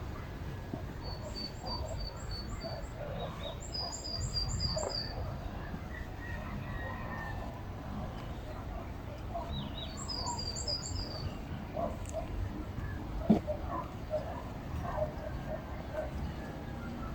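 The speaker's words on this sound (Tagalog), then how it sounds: "ang sarap sa tenga at siguradong i-enjoy mo ang huni ng iba't ibang klaseng ibon." Various birds sing in a bamboo forest at Mirador Eco Park in Baguio, their short, bright chirps and trills coming in small bursts at a moderate distance over a steady, rustling outdoor background.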